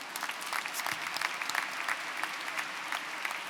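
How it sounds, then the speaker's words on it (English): Commencement crowd applauding the new university chancellor at a college graduation ceremony, a sustained, dense roar of many hands clapping, steady and moderately loud across the whole stretch. "Let's give him a round of applause."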